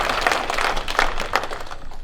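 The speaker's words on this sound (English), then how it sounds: "So let's give Neal a round of applause." Seated audience at a farming conference gives a brief round of applause, a short burst of steady, moderately loud clapping from many hands.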